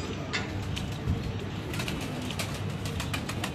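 Pigeons coo softly on a rooftop, a steady low murmur of overlapping calls running throughout with faint rustling and occasional wing sounds, no voices.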